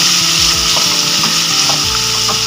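Horse gram roasting with salt in a pan gives a dry rattling sizzle, with the seeds scraped and stirred in regular strokes, close and loud with no talking.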